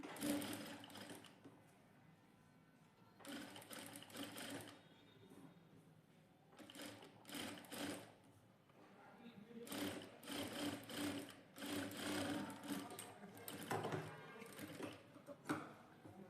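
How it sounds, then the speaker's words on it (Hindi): Sewing machine double stitching a blouse, fairly quiet, with repeated short runs of rapid stitching broken by brief pauses, faint and close. "इसके बाद यहाँ पर इसकी एक डबल सिलाई ले लेंगे।"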